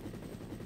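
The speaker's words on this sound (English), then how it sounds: "Don't say I hit the helicopter with the flare, that wouldn't be good." A helicopter in the video game Resident Evil Deadly Silence makes a brief, dense, pulsing rotor thump, loud and continuous for a split second.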